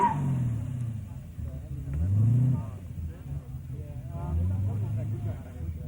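A 1986 car with a Saginaw gearbox drives at Summernats, its engine revving in repeated rising surges from mid-distance, heard under a commentator's voice.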